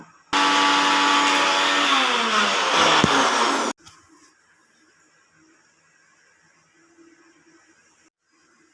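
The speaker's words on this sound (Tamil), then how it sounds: "இது நம்ம மிக்சியில் பேஸ்ட்டாக அரைச்சி எடுத்துக்கலாம்" Kitchen mixer grinder whirs loudly for about three and a half seconds while grinding ginger, garlic, star anise, cinnamon, poppy seeds, fennel and bay leaf into a paste, then cuts off abruptly, leaving faint room noise.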